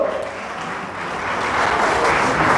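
Applause at an Armenian wedding celebration: a steady, dense wash of many hands clapping together, holding loud and even and swelling slightly toward the end, with no voices standing out.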